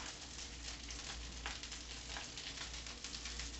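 Salmon cakes pan-fry in a skillet with a steady, soft sizzle and faint crackles, continuous and unbroken, with no talking.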